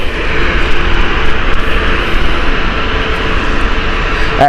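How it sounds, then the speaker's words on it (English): An Airbus A380 at Gatwick Airport, a loud, steady, close roar of aircraft engines holding throughout without pause. "A380, one of my favourite aircraft."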